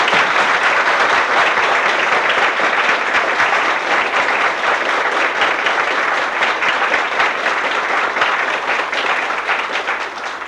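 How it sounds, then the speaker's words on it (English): A large audience applauds a team ranked second in the state, a loud, dense wash of clapping that holds steady for several seconds and thins slightly at the end. "I myself would like to give them a big round of applause."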